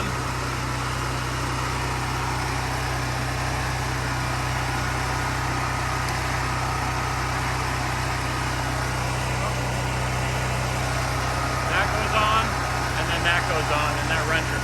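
A Firman generator runs inside a shed with a fan going, giving a steady low engine drone and whirring hum beneath a person talking nearby.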